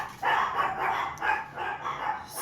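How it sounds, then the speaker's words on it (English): Several dogs bark repeatedly at a mailman inside a home, a rhythmic series of sharp, moderately loud barks heard slightly off-mic with no talking over them. "That's my dogs, you guys. They're barking at the mailman."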